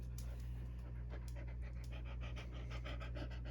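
A dog pants close by in a steady, rapid rhythm of breaths over a constant low hum in a workshop. No talking.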